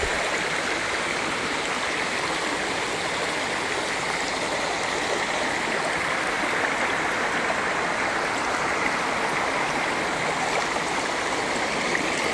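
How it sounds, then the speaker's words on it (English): Steady broadband rush of the flowing Morgan Brook in Connecticut, continuous and close throughout, alone with no voices. "And this is in the state of Connecticut, and this is the Morgan Brook."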